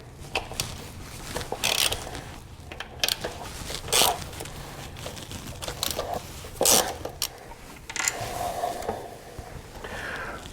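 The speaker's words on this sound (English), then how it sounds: "Remove these 3 T30 screws and we are ready to get started." Screws are removed one after another from the mud flap on a BMW R1250GS motorcycle with a T30 driver. The close metallic clicks, scrapes and rattles are scattered in short bursts, with no talking.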